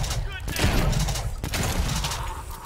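Shotgun blasts in the video game Dead Homiez 2, several loud booming reports in quick succession, with game noise and someone talking over the gunfire.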